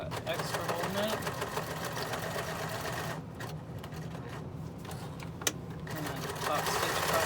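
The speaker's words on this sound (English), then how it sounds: "I back stitch back and forth across where that elastic is" A sewing machine back-stitches back and forth across the elastic on a folding fabric face mask, a steady close whirring and rapid knocking that runs throughout, with a brief tap partway through.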